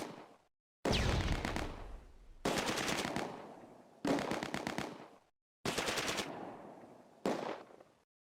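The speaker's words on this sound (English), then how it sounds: "An MG42 off to the right, in the 3-storey house near the Balterson factory." Bursts of MG42 machine gun fire in the Close Combat war game, five long rapid strings of shots that are loud and close and separated by short silences.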